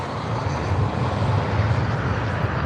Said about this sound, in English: And then Southwest is taking off